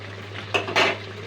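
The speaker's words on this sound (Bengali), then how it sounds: "গরম মশলার গুঁড়োটা আমি মিশিয়ে দেব।" A spoon scrapes and clinks against a pot while garam masala powder is stirred into egg curry, two quick metallic strokes close up over a steady low hum.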